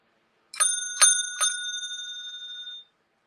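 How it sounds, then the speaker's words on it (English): A metal hotel clerk bell is struck three times in quick succession, each bright ding ringing out clearly and alone, then fading into silence. "these are listed online as hotel clerk bells"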